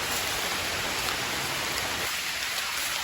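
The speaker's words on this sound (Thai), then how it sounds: "ฝนมากแล้วครับพี่น้องครับ" Heavy rain pours down steadily in a forest, a loud, dense hiss that drops slightly in its lower body near the end and runs on without pause.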